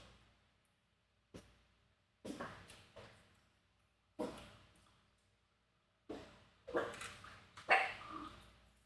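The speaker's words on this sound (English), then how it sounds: "because he hears a dog barking" A dog barks in a handful of separate bursts, a few single sharp barks then a quicker cluster, fairly close with quiet gaps between.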